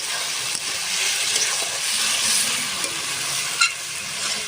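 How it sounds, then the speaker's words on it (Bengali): Potatoes sautéed and stirred in a hot spice masala for a rohu fish curry, giving a steady close frying sizzle with soft scraping stirs throughout, no talk. "আলু দিয়ে খুব সুন্দর করে কষিয়ে নেব"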